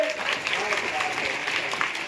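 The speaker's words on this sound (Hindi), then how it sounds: "ताली बजा जोर से" Steady, dense clapping from a crowd of students at an inter-school quiz competition semifinal, continuous throughout with voices mixed in underneath.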